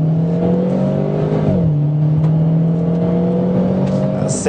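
A 2013 Renault Clio Renaultsport launches hard under launch control, its engine note climbing steadily, dipping briefly at a gear change, then rising again, loud and close throughout.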